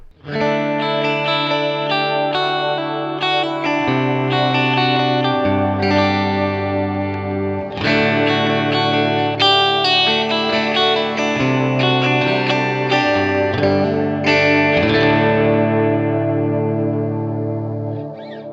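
Sustained electric guitar chords through a Kemper amp ring out washed in lush ambient reverb and chorus, slowly changing harmonies blending into a dense shimmering wall of sound.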